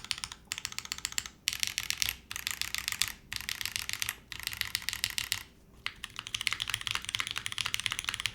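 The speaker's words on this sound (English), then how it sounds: "No, this spacebar is not muted, Nixie." Keystrokes clatter in quick, steady bursts on an ORI CLS-3 60% mechanical keyboard, not hot-swappable, with a heavy unmuted spacebar pressed lightly; brief pauses split the dense typing runs, close and alone.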